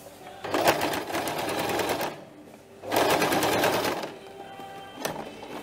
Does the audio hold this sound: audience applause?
no